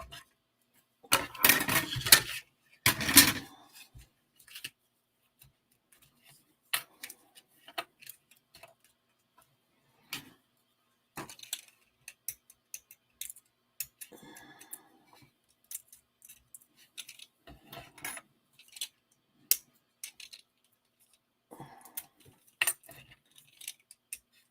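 Small steel cutting dies run together through a hand-cranked die-cutting machine for a handmade card, giving scattered light clicks, ticks and rattling metallic taps over about twenty-five seconds, with a louder clattering burst near the start.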